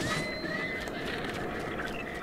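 A horse neighs in Zelda: Breath of the Wild, a clear wavering whinny at the start that trails off, with faint hoof clip-clop and a soft game ambience beneath.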